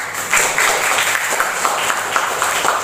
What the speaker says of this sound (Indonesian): Beri tepuk tangan untuk Oka.